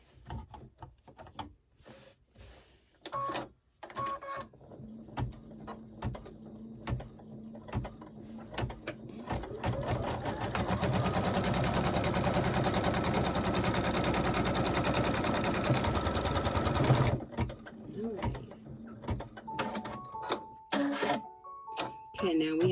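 Short bursts of sewing machine stitching on a fabric table runner build into a long continuous rattling run, then stop, with a person talking around the stitching.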